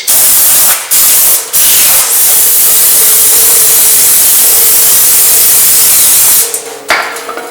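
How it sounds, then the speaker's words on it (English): Brake cleaner sprays onto the rear brake backing plate of a Chevy S10 or GMC S15 truck, a loud steady hiss held for about six seconds after a few short opening bursts. "use brake cleaner to clean the backing plate"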